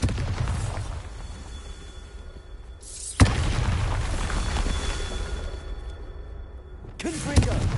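A Bombarda spell explosion in Hogwarts Legacy: loud, heavy booms with a sustained rumbling roar, a sharp blast near the middle and another near the end over continuous dense game noise.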